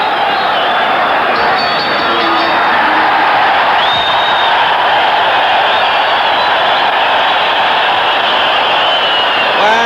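A boxing arena crowd roars steadily during the Hagler vs Obelmejias fight, a loud, continuous wash of cheering with scattered whistles and shouts, and a commentator's voice faintly underneath.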